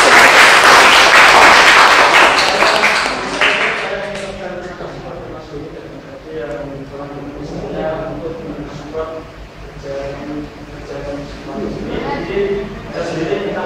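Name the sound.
audience applause at a lecture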